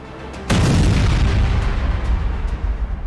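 A missile explosion in Tel Aviv during an Iranian attack, a sudden deep boom followed by a long, heavy rumbling roar that stays loud until the end.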